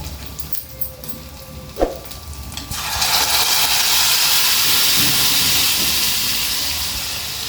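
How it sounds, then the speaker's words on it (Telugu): Ginger paste drops into hot oil in a pan and erupts into a loud, sustained sizzling hiss that starts abruptly and continues steadily, preceded by a few faint clinks. "అల్లం పేస్ట్ పచ్చివాసన అయ్యే వరకు వేసుకుందాం"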